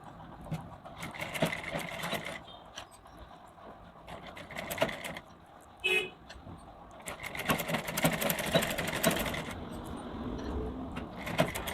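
A sewing machine runs in bursts while stitching folded blouse fabric during lined blouse tailoring, close and steady with short pauses between runs and a brief clack near the middle.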